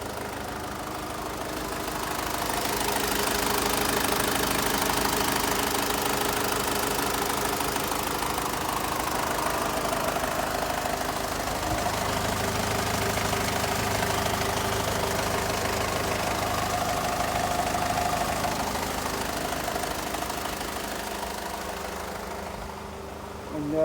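A 2007 Ford Everest's engine drones steadily while driving on an empty road, a low continuous hum with a faint knock-like texture that eases off near the end, with no talk over it.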